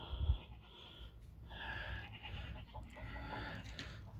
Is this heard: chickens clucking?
yes